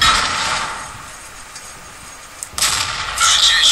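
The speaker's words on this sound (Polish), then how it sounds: "I kolejny strzał za zero." A T32 tank's cannon fires in a video game, sounding as a heavy boom that trails off, followed by a second sharp blast near the end. No one speaks.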